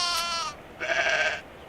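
Sheep bleating in the video game Medieval Dynasty around shearing time: two clear, drawn-out bleats in close succession, the second slightly longer, loud and close with no talk.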